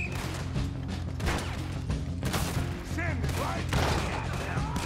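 Shotgun fire in Red Dead Redemption 2 amid a dense, loud gunfight, with several sharp blasts over a steady din of game sound and some voices.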